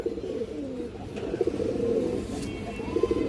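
A pigeon gives soft, low, repeated coos close by in a quiet setting.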